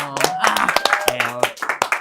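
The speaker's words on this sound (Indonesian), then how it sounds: "Tepuk tangan aja dong." A small audience claps in a loose, uneven patter of separate hand claps, close by, with voices talking and laughing over them.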